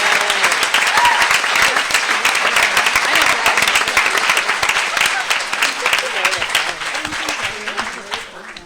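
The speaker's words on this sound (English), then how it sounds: "let's give everybody another round of applause and thank you so much" Sustained audience applause at the end of a panel talk, many hands clapping loudly together for several seconds before tapering off at the end.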